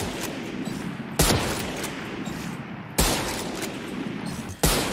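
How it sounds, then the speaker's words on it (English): High power sniper rifle firing in the video game Valorant: three sharp, loud shots at steady intervals of about 1.8 seconds over a continuous rumbling game background. "This is the high power sniper rifle right here. It's very nice. It sounds great too."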